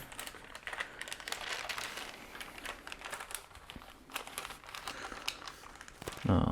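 A plastic bag crinkles steadily while pinball parts, spacers and a flasher dome, are handled and packed during a playfield teardown, with close, busy rustling and small taps throughout and no talking.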